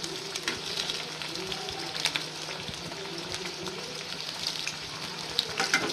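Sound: medu vada (urad dal fritters) frying in oil

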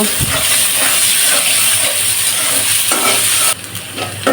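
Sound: onions frying in oil in a pan

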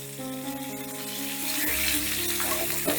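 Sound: frying chopped vegetables in a pan

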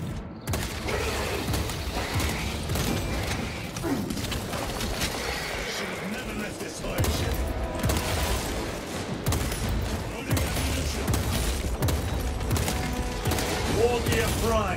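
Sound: orbital guns firing in the video game Space Marine 2

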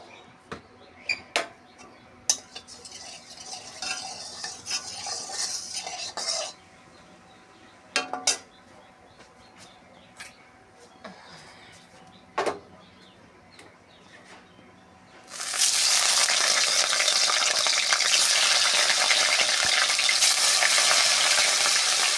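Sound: fish frying in oil in a wok

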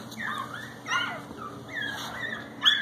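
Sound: one-week-old shih tzu bichon puppies whimpering

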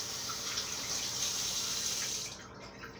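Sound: washing hands under running warm tap water

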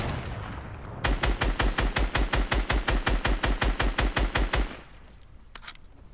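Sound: minigun gunfire in a shooter video game

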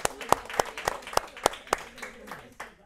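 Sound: audience applause congratulating a couple on 57 years of marriage

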